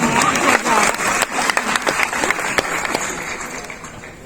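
An audience claps together during a Hindi sermon in Jabalpur, with dense rapid clapping that stays loud at first and then thins and fades over a few seconds.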